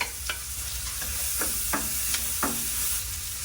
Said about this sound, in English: Now in goes the onions and the garlic.